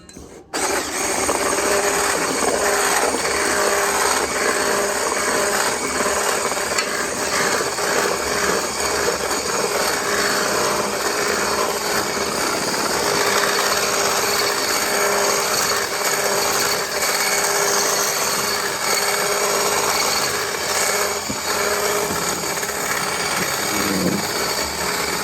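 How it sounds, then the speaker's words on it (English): A handheld electric mixer whirs continuously and closely as it beats keto pancake batter, a steady buzzing hum with rattling in the bowl that runs unbroken for the whole stretch, no talk. "I'm going to use my handheld mixer, which I really enjoy using"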